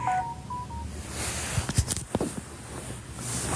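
Telephone dialing tones sound as a few short, clear beeps in the first second, followed by faint handling clatter and rustling with no talk.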